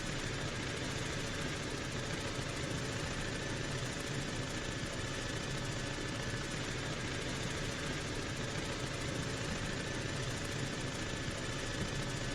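A Juno helicopter hovering in the ArmA video game, its engine and rotor making a steady, loud, unbroken drone that holds level throughout with no talk.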